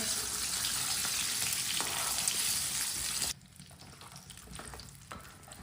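Chicken pakora sizzling loudly in hot oil, a dense steady crackle that suddenly drops to a quieter bubbling fry partway through, with no voices.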